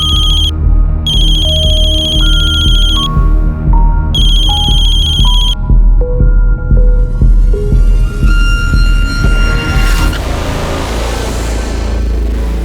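A mobile phone ringtone for a repeated incoming call plays loud and close with no talk: bright bursts of beeping alternate with a stepping melody, and a rising run of notes near the end.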